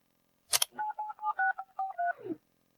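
A telephone number is dialed as a quick sequence of about eight keypad tones, clear and close, preceded by a short click and ending with a brief falling tone.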